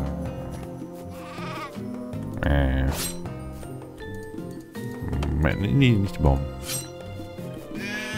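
Sheep in the video game Craft the World bleat several times over game music and clinking effects, while someone talks throughout.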